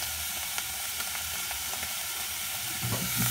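Ground meat for samosa filling frying in a pan on medium heat, a steady bright sizzle with occasional stirring scrapes near the end, no talk.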